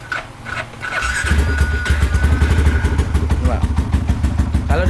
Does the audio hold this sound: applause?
no